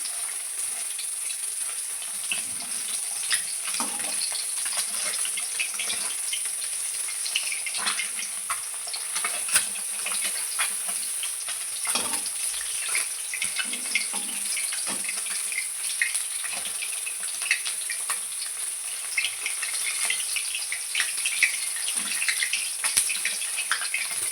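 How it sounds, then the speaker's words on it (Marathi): An egg fries in hot oil, giving a loud, continuous, bright sizzle with scattered crackles and pops throughout. "मी असे तेलामध्ये अंडे तळून घेणार आहे"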